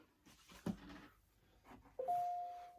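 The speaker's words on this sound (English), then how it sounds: "Ding dong, there's email." A ding-dong email notification chime rings out once, a short bright two-tone electronic sound, preceded by faint rustling and a soft knock indoors.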